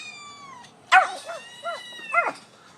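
A dog barking and yipping at a cat video playing nearby, a few excited short barks after a thin high whine, close and fairly loud with no talking.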